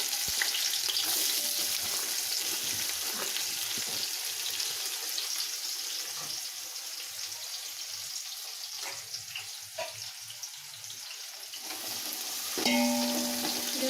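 Small shallots deep-frying in oil for mushroom biryani, a continuous close sizzle with occasional stirring clinks and a faint tap-like rush near the end.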